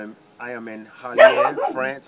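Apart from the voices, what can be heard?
dog barking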